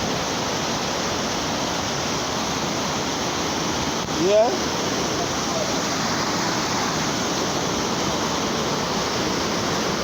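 Floodwater after a hurricane rushes past steadily as a broad continuous roar, loud and close, with a brief spoken word partway through.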